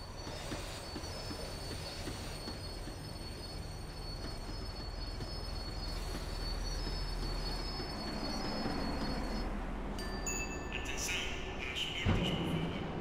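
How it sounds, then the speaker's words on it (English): A tram slowing on its rails in the video game Max Payne 3, a sustained high metallic wheel squeal over a steady low rumble, near and continuous, ending with a clunk as it comes to a halt. "tram was slowing down, and I'd only just gotten on board"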